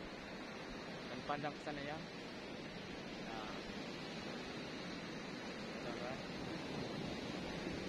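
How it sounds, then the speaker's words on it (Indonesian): Strong surf rolls steadily across a very wide, open beach as a continuous broadband wash of waves, with a person briefly speaking over it. "gelombangnya juga cukup deras teman-teman"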